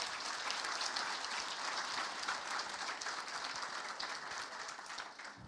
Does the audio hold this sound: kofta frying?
no